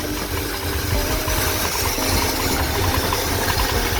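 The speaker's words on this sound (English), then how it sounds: "Idle's pretty good." A 1986 Ford F250 with its emissions equipment deleted idles, holding a steady, rough, rumbling engine drone close by with a faint rattle and no talking.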